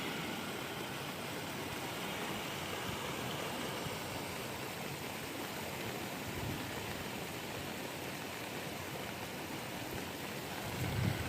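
Heavy floodwater from a downpour rushes past in a continuous, dense roar, loud and unbroken throughout with no voices heard.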